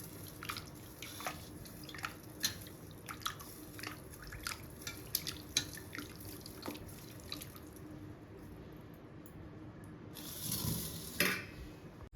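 Raw chicken being washed in water with a little salt and turmeric, soft drips and sloshing stirs close by, with a louder splashing burst near the end.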